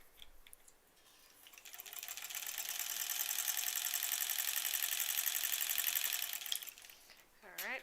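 Sewing machine stitching and back tacking on a bunny stuffed toy, a steady rapid mechanical whir that runs for several seconds and then stops, with brief faint talk at the start and end.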